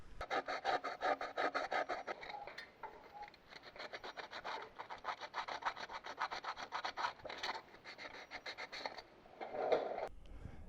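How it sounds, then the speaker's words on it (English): Rhythmic hand sanding of a metal exhaust manifold from a 4.6 Ford engine, with repeated rasping back-and-forth strokes, close and continuous with brief pauses, no talking. "Now we're going to start the sanding motion"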